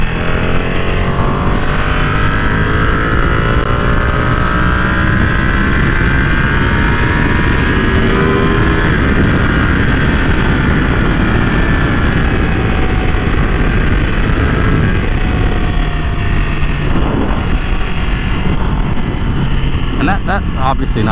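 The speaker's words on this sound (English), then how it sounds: "that's obviously not full throttle, not even half throttle, just a little baby pulls here and there" Ducati Panigale V2 motorcycle engine droning steadily with small throttle blips while riding, loud and continuous under heavy wind rush.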